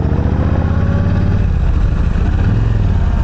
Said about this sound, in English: It means you gotta rev it.